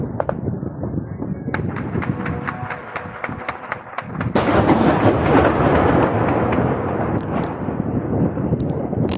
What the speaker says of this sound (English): Huge explosion. Huge explosion.